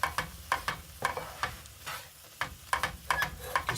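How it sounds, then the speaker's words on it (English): Baked beans being mashed and cooked down into camp ketchup in a pan, with repeated soft taps and scrapes of a utensil in an uneven rhythm over a faint simmer, close by. "Just cooking this all down, trying to mash it, make it more into a sauce"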